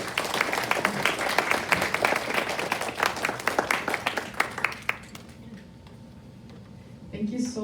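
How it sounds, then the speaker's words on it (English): Audience applause at a women in neuroscience event, a crowd of hands clapping with sharp individual claps audible, fading out after about five seconds before a voice starts. "Another round of applause, please."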